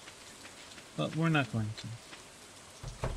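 Rain in the farming video game Stardew Valley makes a steady soft patter throughout. A voice talks over it briefly.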